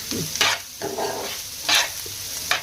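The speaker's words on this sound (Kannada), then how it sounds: "ಇವಾಗ ಉಪ್ಪು ಹಾಕಿ ಮಿಕ್ಸ್ ಮಾಡೋಣ" A spatula stirs momo vegetable filling with salt in a pan, giving repeated scraping strokes over a low sizzle, close and fairly loud in short rhythmic bursts.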